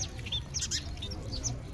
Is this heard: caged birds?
yes